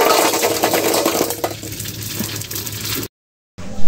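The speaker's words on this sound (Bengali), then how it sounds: "এখন আমরা তেল দিয়ে কিন্তু আরো অনেকগুলো ফুচকা ভেজে নেব" Fuchka puris fry in hot oil, a loud, dense sizzle that eases slightly, cuts out briefly, then returns.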